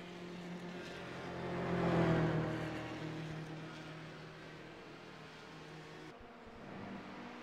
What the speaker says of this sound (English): Reece Gardner pulling into the pit lane now